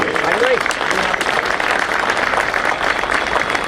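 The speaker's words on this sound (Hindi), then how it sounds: "और मैं चाहता हूं कि जोरदार तालियों से" Loud applause from an audience at a Bar Council of Delhi event, steady, dense clapping throughout with a brief voice heard at the very start.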